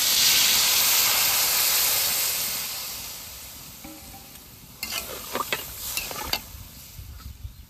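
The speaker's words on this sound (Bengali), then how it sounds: "এবার আর একটু ভালো করে আলুগুলো ভেজে নেবো" Potatoes fry in a pan with a loud hissing sizzle that fades gradually, followed by clattering scrapes and knocks as they are stirred.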